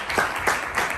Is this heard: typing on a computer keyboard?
no